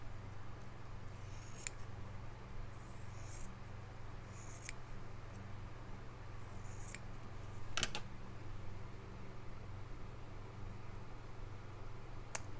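Scissors snip along the pinked edge of fabric in a handful of short, crisp cuts spaced a second or two apart, quiet and close over a low steady hum.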